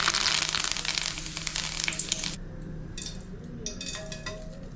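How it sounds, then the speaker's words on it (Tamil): Curry leaves dropped into hot oil left from frying masala peanuts, stove just switched off, give a loud crackling sizzle that cuts out abruptly, followed by quieter intermittent spitting and sizzling close by. "இப்போது இந்த எண்ணெயில் ஸ்டவ் ஆஃப் பண்ணிவிட்டு ஒரு கொத்து கருவேப்பிலை போட்டுக்கலாம்"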